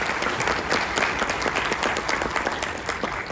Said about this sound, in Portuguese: Uma salva de palmas de coração